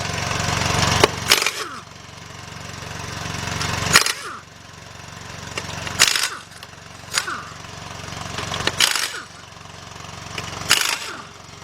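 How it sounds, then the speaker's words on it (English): An air compressor cycles noisily while a tire is being removed from a 2002 Ford Explorer during front inner tie rod work in a garage: loud steady motor drone broken by several sharp bursts roughly every two seconds, with no talking. "let me get that compressor off"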